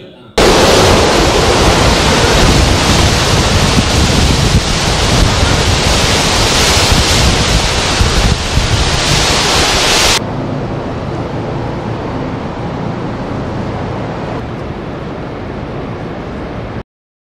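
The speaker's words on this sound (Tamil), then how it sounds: "ஒரு சூறாவளி புயல்" Cyclone storm wind and crashing waves, a loud, dense roar of rushing air and surf that holds steady, then drops to a lower, duller rumble partway through, with no voices.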